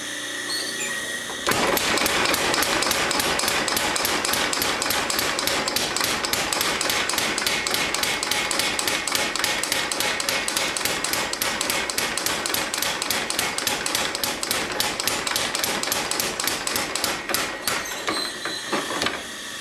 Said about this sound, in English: get it up to welding temperature, and we'll get it under the power hammer here